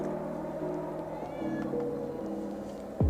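A drawn-out, wavering cat meow with rising and falling pitch carries on for a few seconds, fairly close, ending in a sharp drop.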